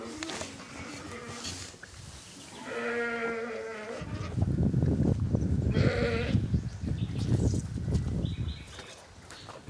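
Sheep bleat on a working farm, with several drawn-out, wavering calls close by, one after another, over a busy background of shuffling animals and farm noise.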